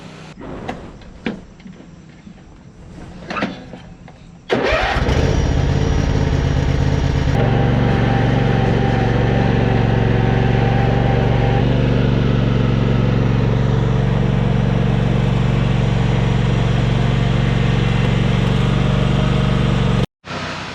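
A tractor engine runs loud and steady at close range while dragging an E36 BMW 325i shell, with a low, heavy drone that continues uninterrupted and then cuts off abruptly near the end.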